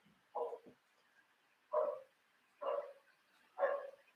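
A dog barks four times at steady intervals somewhere in the distance, faint and muffled, with no talk over it.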